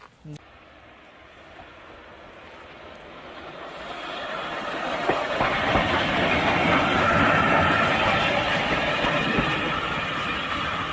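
A heritage railway train runs along the line, its rumble swelling from quiet to a loud, close roar with rhythmic clickety-clack of wheels over rail joints, a brief sharp click at the start.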